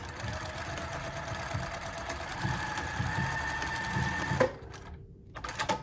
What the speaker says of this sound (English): So we're gonna just sew back and forth over this mark a few times.